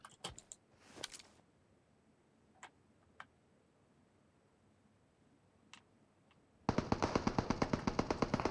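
Gunfire from a firefight in PUBG Mobile: a few scattered single shots early and midway, then a sustained rapid burst of automatic fire near the end, sharp and fairly close.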